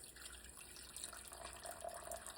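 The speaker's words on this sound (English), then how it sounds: "We're gonna do 225 grams of water, warm water." Warm water poured from a tap for sourdough cinnamon bun dough, a steady faint splashing stream running throughout with no talking.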